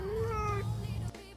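A human voice imitates a cat's meow: one drawn-out, close meow with a rising and falling pitch, then a short quiet tail.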